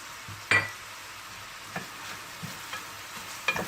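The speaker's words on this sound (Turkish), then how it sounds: "Şimdi soğanımız hafifçe kavruldu. Biberimizi koyuyoruz. İkisi aynı anda kavrulsun." Onions and peppers fry in a pan with a soft, steady sizzle, broken by a few sharp clacks and scrapes of a spoon stirring against the pan.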